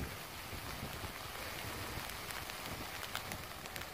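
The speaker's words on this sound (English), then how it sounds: "hopefully you can see that it is raining." Rain patters steadily on a factory-fresh Lanshan 2 tent in windy weather, a dense even hiss of drops with a few sharper taps standing out, heard alone without talk.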